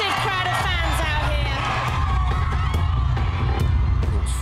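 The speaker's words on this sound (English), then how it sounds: "You have got such a massive, massive, massive crowd of fans out here." A large crowd of fans cheers and shouts continuously outdoors, with loud overlapping whoops and yelling voices, dense and close, filling the whole stretch.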